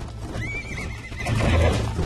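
A horse in Red Dead Redemption lets out a loud, wavering neigh, followed by heavy hoof clops close by, all within about two seconds and without talk.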